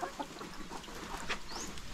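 Chickens, loose and untethered, cluck softly in short scattered bursts over a low outdoor background, fairly faint.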